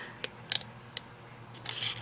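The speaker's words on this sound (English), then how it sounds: "Also, I would generally use smaller scissors. I don't know why I busted out the biggest scissors I have." Large scissors cut paper in a few sharp, close snips spaced irregularly, ending in a longer rustling slice in a quiet room.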